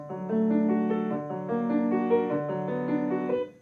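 Piano notes rolling one after another in spread, arpeggiated chords, gentle and sustained with no talking.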